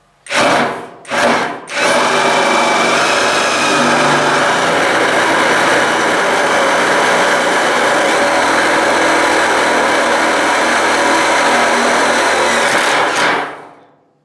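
A Graphite 58G024 cordless impact driver fitted with a drill bit whirs in two short bursts, then runs continuously at high speed into wood for about ten seconds before stopping.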